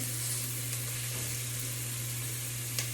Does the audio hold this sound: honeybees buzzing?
no